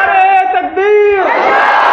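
At a religious sermon, a large crowd answers a call of Nara-e-Takbeer by shouting Allahu Akbar in unison. A loud, sustained chanted voice swells into a broad, roaring mass of voices.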